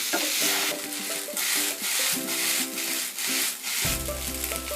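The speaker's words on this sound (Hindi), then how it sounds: "अब फ्लेम को हाई कर देते हैं और इसे टॉस करते हुए चलाकर 1 मिनट तक सौटे कर लेंगे।" Noodle stuffing for a street-style frankie is tossed and sautéed in a pan on high flame, giving rhythmic scraping and stirring strokes with a light sizzle, and steady tonal background music runs throughout.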